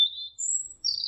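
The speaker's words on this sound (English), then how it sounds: "If birds are singing their high notes" High, thin bird chirps in a natural soundscape: three short whistled notes in quick succession, clear and isolated against near silence.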